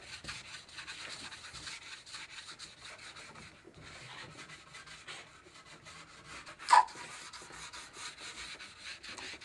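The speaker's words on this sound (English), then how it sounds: "the gummy stone. Just rubbing it down, keeping it smooth." A gummy stone rubbed along metal ski edges to deburr them, a steady soft scraping in repeated strokes, close and alone, with one sharp tap near the end.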